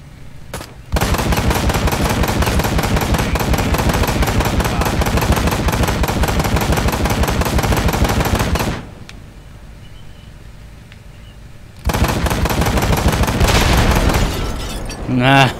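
Sustained automatic gunfire rattles in the motorcycle action game Ride to Hell: Retribution, loud and continuous for several seconds, then a brief lull before another long burst.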